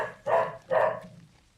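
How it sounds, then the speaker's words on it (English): A pet dog barks twice in quick succession, fairly close and clear indoors, with the second bark trailing off into quiet. "Sorry about the dog, guys."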